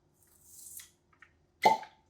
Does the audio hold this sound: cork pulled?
yes